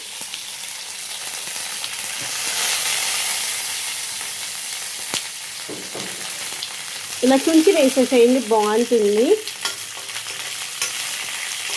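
Chillies and onions frying in oil in a pan, a steady close sizzle with occasional stirring clicks, while someone speaks briefly over it.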